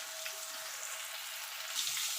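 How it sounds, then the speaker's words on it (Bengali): Shankar (stingray) fish pieces frying in hot oil in a wok, a steady soft hiss and sizzle with a slight swell toward the end, quiet and without talk. "দেখুন বন্ধুরা, মাছগুলো ভাজা হয়ে গেছে"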